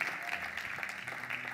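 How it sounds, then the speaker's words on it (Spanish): Brief audience applause in a church congregation, a soft textured patter of clapping with faint murmurs underneath, short and fairly quiet. "Un aplauso para ustedes."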